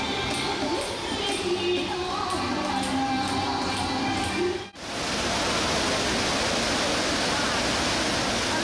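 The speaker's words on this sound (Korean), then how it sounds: "폭포의 울림소리가 숲을 울리며 멀리 메아리친다 해서 울림폭포" Roar of the Ullim waterfall in a forest, a steady dense rush of falling water filling the clip, with a brief dip midway before the broad, even roar resumes.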